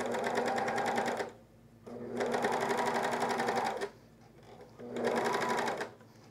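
A coverstitch machine or serger stitches elastic onto a camisole in three loud, even bursts of rapid mechanical whirring, separated by short pauses.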